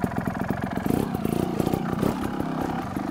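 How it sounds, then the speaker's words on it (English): Trials motorcycle engine revving under short bursts of throttle while the clutch is slipped to climb over a log, a close, chattering, pulsing mid-pitched exhaust note. "Right when you push forward, that's when you give it a little bit of throttle and slip the clutch."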